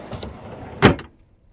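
A drawer with slam latches in a Jeep TJ overland kitchen setup is slammed shut once, a sharp loud bang near the end after quieter handling clicks, followed by silence.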